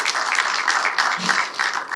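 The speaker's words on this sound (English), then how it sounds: "you deserve a round of applause for the organization" Audience applause at an energy-sector event honoring an organization, a steady dense wash of clapping lasting about two seconds and cutting off abruptly at the end.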